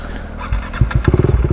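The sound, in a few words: KTM 390 Duke motorcycle pulling away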